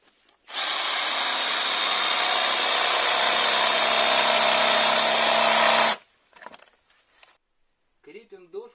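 A jigsaw cuts openings in a wooden floor board, a loud, close, steady buzzing rasp lasting about five seconds before it stops, followed by faint handling noises and a short spoken phrase.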